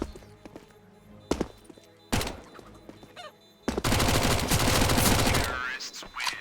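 Dual Beretta pistols fire in a Counter-Strike match, first as scattered sharp shots, then as a dense, loud volley of rapid gunfire and impacts toward the end, with game noise throughout.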